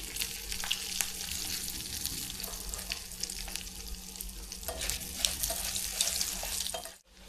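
Curry leaves and dried chillies fry in hot oil for a South Indian onion coconut thovayal tempering, giving a steady close sizzle with small crackles that stops abruptly near the end.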